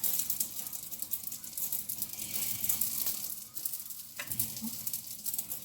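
Pastries (fritters) frying in shallow oil until golden, a steady dense sizzle and crackle running throughout at moderate level, with a brief clink or stir near the end and no talk.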